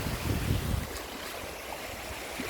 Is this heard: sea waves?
yes